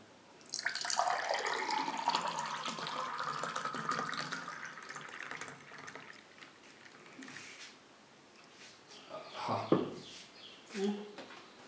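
Cooled water boiled with hibiscus flowers is poured from a glass into a jug, a close, splashing stream lasting several seconds that fades, followed by a few brief knocks and handling sounds.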